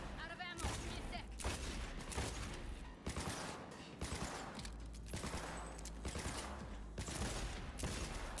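Dense, continuous gunfire in the video game Cyberpunk 2077: rapid overlapping bursts and shots fill the whole stretch, loud and busy, with game voices mixed in underneath.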